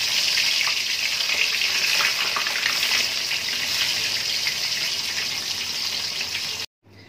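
Brinjal, potato and pumpkin fry in oil in a pan for Laxmi puja cooking, giving a loud, close, steady hiss that runs without a break and cuts off just before the end.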